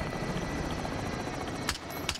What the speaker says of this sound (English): Here comes the cash helicopter